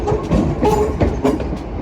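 A Class 323 electric multiple unit running through Manchester Piccadilly station, giving a steady rolling rumble with rhythmic wheel clatter, close and fairly loud throughout, with no voices.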